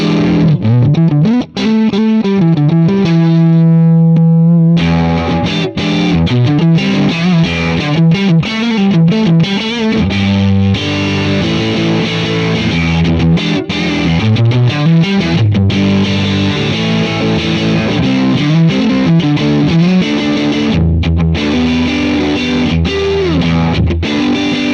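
Electric guitar played through a Mooer GTRS modelling a 60s Strat, distorted chords and single notes strummed and picked loudly and continuously, with effects coloring the tone and no talking.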